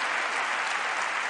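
Comedy club audience breaks into dense, even applause, many hands clapping close and loud for the whole moment, with no voices heard.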